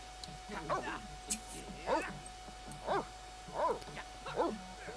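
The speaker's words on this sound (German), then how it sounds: "Oh Gott, schön, die knurren sie auch." Sims characters from The Sims 3 growl and bark at each other like dogs, five short rhythmic bursts about a second apart, fairly close and clear over a faint steady hum.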